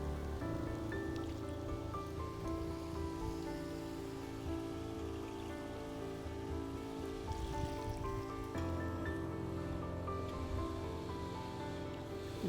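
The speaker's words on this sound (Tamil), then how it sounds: "இப்போ இதில் தண்ணியை ஊற்றிடுவோம்." Water is poured into a pan of onion kos, giving a soft, continuous trickling and splashing that stays faint and steady throughout, with no voices.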